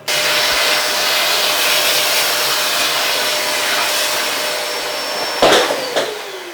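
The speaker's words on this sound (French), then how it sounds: "On récupère la plaque, on y met un coup d'aspirateur." A vacuum cleaner drones steadily at close range with a high whine, cleaning dust off a laptop plate, then a couple of knocks and a scraping rattle near the end as the nozzle moves.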